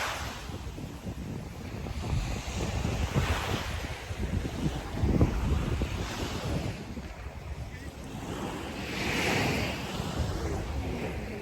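Morning surf washing onto Guangali Beach, steady broadband rush of waves with swells building and receding, mixed with wind buffeting the microphone and no clear talking.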